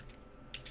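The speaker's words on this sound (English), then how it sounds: "Make sure to type your product key exactly as you see here, all capitals" Keys on a computer keyboard struck quickly to enter a product key, giving a couple of faint, close clicks over a low background hum.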